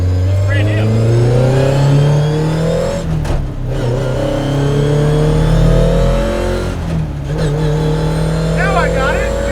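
Fiat Abarth 131 'Alitalia' Group 4 rally car from 1978, its engine revving hard while driving, loud and close with rising pitch sweeps through the gears and short dips at each shift.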